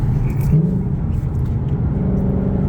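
A car's exhaust drones steadily while driving down an open highway with rev matching, a continuous low rumble filling the whole stretch at close range.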